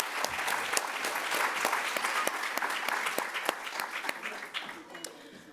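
A crowd applauds steadily for award recipients at an honors day ceremony, dense clapping from many hands that holds for several seconds before thinning out toward the end.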